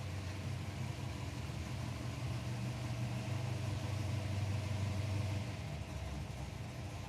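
A BA Falcon drag car at the Palmyra Raceway drag strip, its engine holding a steady, loud low rumble throughout with no clear revving or launch.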